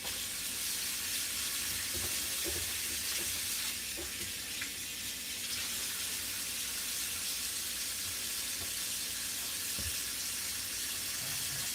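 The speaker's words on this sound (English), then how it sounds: "I'm just rinsing my hands because I don't like the feeling of eggs." Water runs steadily from a kitchen tap as hands are rinsed of raw egg while cooking a Thanksgiving dish, a continuous close wash with faint clinks and no talking.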